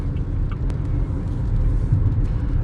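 Steady low rumble of road and engine noise inside a 2022 Haval Jolion with a DCT transmission, driven normally; a continuous, fairly loud drone with faint higher hiss and no talking.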